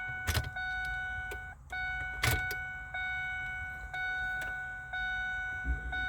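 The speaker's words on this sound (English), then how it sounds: "Prime the fuel pump." A truck's electric fuel pump hums with a steady whine after a fuel filter replacement, cutting out and restarting in several short cycles, with a couple of clicks from the key.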